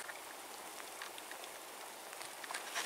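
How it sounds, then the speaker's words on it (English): Rain falls steadily on surfaces outdoors, a soft, continuous patter of many scattered drops heard alone and fairly faint. "The rain has begun, and our time is soon done."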